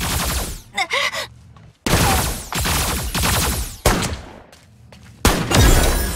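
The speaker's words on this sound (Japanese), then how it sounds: "銃声が聞こえた。" Sharp bursts of gunfire in the video game Super Mecha Champions crack out in several separate volleys, loud and close, with brief gaps and a gasping voice between them.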